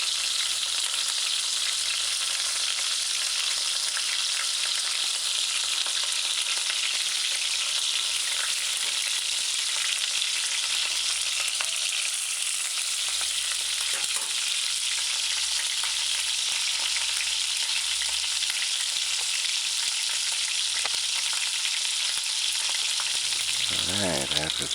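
Garlic sautés in a pan for a stew, a loud, steady, close sizzle that runs without a break, with faint stirring underneath and no talking.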